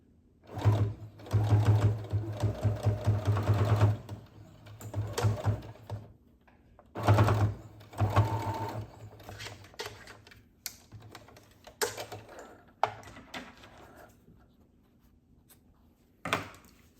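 Sewing machine stitching across the ends of a fabric snap bag, in several bursts of rapid mechanical chatter separated by pauses, with softer handling clicks and rustles of fabric between runs.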